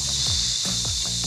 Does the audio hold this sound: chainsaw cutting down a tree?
no